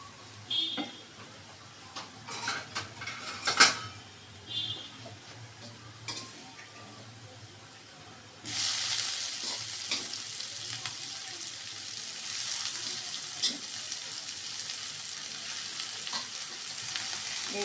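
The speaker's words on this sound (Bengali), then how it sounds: "এই যে পেঁয়াজ রসুনটা সুন্দর ভাজা হয়ে গেছে, এখন আমি শাকটা এর মধ্যে ঢেলে দেব।" Radish greens tipped into onion and garlic frying in hot oil, giving light clatter and pan noise before a sudden, steady loud sizzle takes over and continues to the end.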